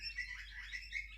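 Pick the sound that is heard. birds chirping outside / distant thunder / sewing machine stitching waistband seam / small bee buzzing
birds chirping outside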